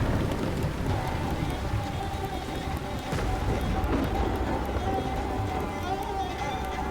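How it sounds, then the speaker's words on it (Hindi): Steady heavy rain hisses throughout with a low rumble of thunder beneath it, constant and enveloping. "कुछ देर बाद गर्जना के साथ बारिश होने लगी"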